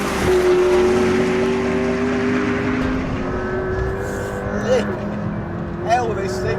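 A McLaren P1 driven hard in its most aggressive setting around the Castle Combe race circuit, a loud, close, sustained engine drone shifting pitch through gear changes, with a voice talking over it.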